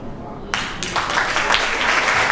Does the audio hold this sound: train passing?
no